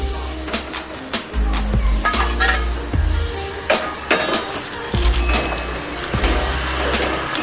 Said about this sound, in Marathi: आता आपण किसून घेतलेलं सुकं खोबर भाजून घेऊया